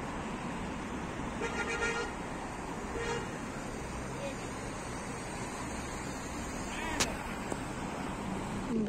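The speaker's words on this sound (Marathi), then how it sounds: "इकडे चालल्यात झपाझप गाड्या एकदम" Traffic rushes past a quiet park in Muscat on a cold day, a steady roadway wash with a few car horn toots heard at a distance.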